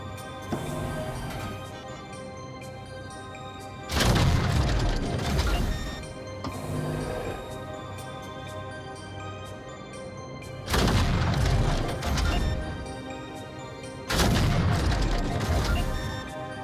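Scattershot weapon firing at a hopper in the Vox Machinae VR mech game: three heavy booming blasts, each a loud, close crash decaying over a second or two, over a steady droning mechanical hum.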